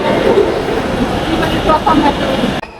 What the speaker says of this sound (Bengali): আজকে আমি ঢাকা ইউনিভার্সিটি থেকে বিজয় সরণী পর্যন্ত মেট্রো রেলে ভ্রমণ করব